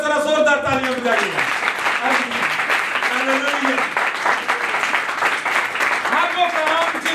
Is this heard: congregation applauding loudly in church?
yes